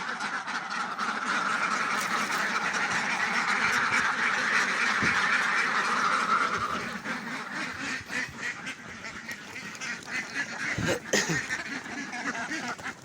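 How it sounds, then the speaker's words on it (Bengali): A flock of Khaki Campbell ducks being released quacks and honks in a dense, continuous chorus nearby, thinning out halfway through into scattered calls and rustling. "আমি হাঁসগুলো ছাড়ি"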